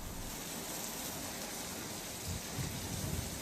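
Heavy rain pours down in Khambhalia, Devbhumi Dwarka, a dense, constant hiss of downpour with low rumbling swells late on and no voices.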